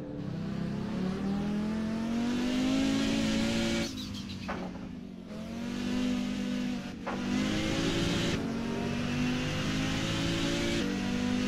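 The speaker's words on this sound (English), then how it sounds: "This is a pure rally car in Assetto Corsa." An Audi 90 rally car in the Assetto Corsa racing game revs and drones loudly and steadily, with its engine pitch rising and falling through several gear shifts and brief lifts off the throttle.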